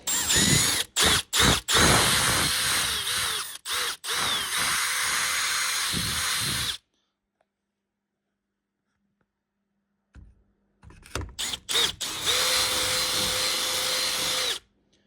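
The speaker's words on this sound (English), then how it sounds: "you got to drill through one-handed" A power drill whines loudly in two long bursts, drilling through a bathroom mortice door lock, with a few quick stops and starts, separated by several seconds of silence.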